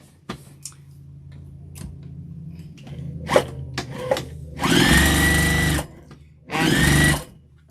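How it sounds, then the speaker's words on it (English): A sewing machine stitching down the sides of a flannel infinity scarf runs in two loud, steady bursts, preceded by scattered clicks and handling taps of fabric and parts nearby. "what I do is I just sew down the sides, and I leave the bottom piece open"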